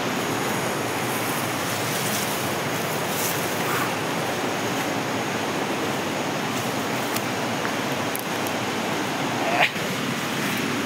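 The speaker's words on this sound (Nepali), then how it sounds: "यहाँ चाहिँ अहिले ट्याक्क धरानमा जस्तो पानी फल लागिरहेको छ" A waterfall near Dharan rushes in a steady, dense roar that holds close and unbroken throughout, with no voices over it.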